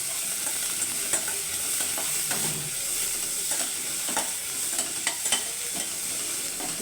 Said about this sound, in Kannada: ಇವಾಗ ಈರುಳ್ಳಿನೂ ಸ್ವಲ್ಪ ಫ್ರೈ ಆಗಬೇಕು.